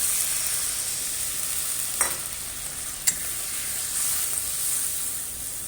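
Spice masala fries in oil, a continuous close hiss and sizzle with two brief sharp knocks of a spoon against the pan, without talk.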